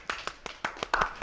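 Hands clap in a quick, steady series of about seven claps, close and fairly crisp, with no talking over them.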